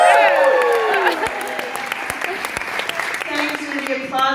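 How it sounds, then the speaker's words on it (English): An audience at a live talk in Kayenta, St. George, Utah claps in a warm burst after an amplified voice, with the applause continuing beneath the speaking. "Thanks for the applause"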